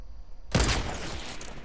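Gunfire in the video game Fortnite: a sudden loud burst of rapid shots erupts after a quiet moment, then trails into dense, noisy reverberation.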